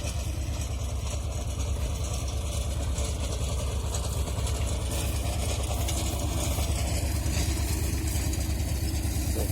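A tractor engine rumbles steadily and loudly throughout a potato harvest, a constant low droning chug with no pauses.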